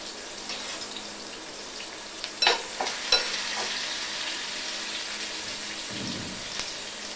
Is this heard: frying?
yes